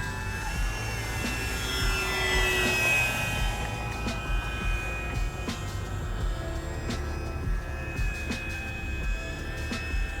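A Kavan Bristell B23 1.6m RC airplane flies overhead, its steady engine drone holding fairly loud and even throughout without voices.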